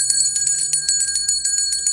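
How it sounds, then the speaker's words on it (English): A bright, loud wrong-answer bell effect rings alone in quick repeated dings, a rapid metallic trill that keeps pulsing for about two seconds. "Can we get the wrong bell in here?"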